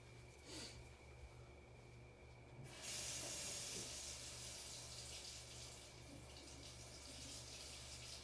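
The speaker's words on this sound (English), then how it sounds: "We're gonna go rinse our brush real quick." A paintbrush is rinsed in water, a steady faucet-like hiss and trickle that grows louder midway and runs throughout against a low hum.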